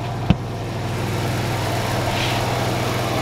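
A steady low generator engine drone runs throughout at an even level beside a Coachmen Pursuit RV, with one brief thump near the start and no talking.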